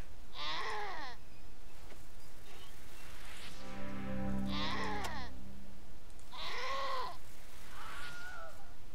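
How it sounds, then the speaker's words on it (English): A goat in a video game bleats loudly several times, drawn-out wavering cries spaced a couple of seconds apart, close and clear over a low hum. "Listen here, goat."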